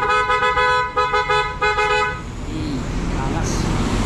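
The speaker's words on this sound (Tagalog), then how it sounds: "Tapos nagpakabit na rin tayo ng PIA horn." A loud, close aftermarket horn on a Honda ADV 160 motorcycle blares in several short, stuttering honks, then cuts out to an idling engine rumble.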